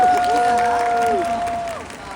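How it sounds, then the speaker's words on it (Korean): Audience at a Busan International Film Festival open talk applauds, with brief clapping and cheering over a voice speaking into a microphone, fading toward the end. "여러분 박수 한번 부탁드립니다"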